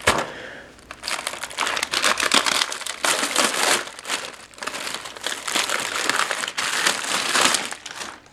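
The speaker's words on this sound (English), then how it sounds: "this does have an inner bag that contains everything, similar to Ameriqual MREs" Crinkly plastic inner bag of a 2015 military MRE being handled and rustled, with continuous loud crackling and crumpling in irregular bursts and short pauses, close up and alone.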